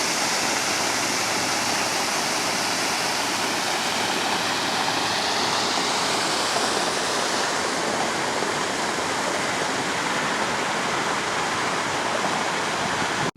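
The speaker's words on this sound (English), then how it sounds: "All mine water coming out for these old mine openings." Steady roaring rush of mine water pouring out of old mine openings and over a concrete spillway after a storm, loud, unbroken and close, with no voices.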